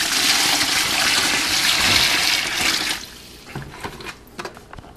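Water pours steadily into a bucket beside a homemade steam distiller, a loud continuous rush lasting about three seconds before easing into scattered splashes and drips.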